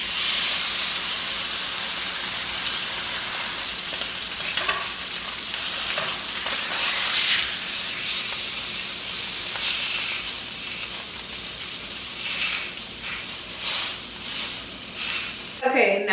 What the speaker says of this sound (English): we're going to brown the meat 1 to 2 minutes on both sides